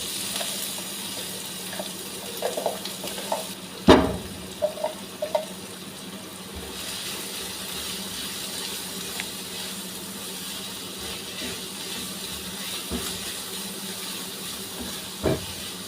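Onions fry in a pan with a steady hiss of sizzling, opening with a few clattering knocks and one sharp clang, then a continuous close sizzle without talk.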